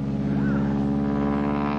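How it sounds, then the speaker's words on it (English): A vintage Stearman biplane engine at an air show whines steadily through a Texas roll, a strong droning hum with a brief rising pitch sweep partway through, close and loud from start to finish. "Look at that old engine whine."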